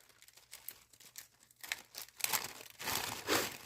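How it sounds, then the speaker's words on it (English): Foil tape handled up close, crinkling and rustling in scattered bursts that grow louder and denser toward the end, with no one talking. "This is what I used right here. It's just foil tape."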